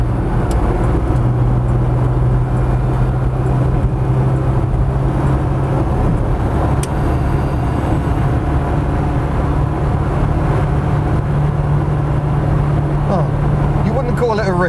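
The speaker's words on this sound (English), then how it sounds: "we're blatting along at an indicated 70 odd mile an hour quite merrily here" A Vauxhall heritage car cruising at around 70 mph, a constant low engine and road drone filling the whole stretch while someone talks over it.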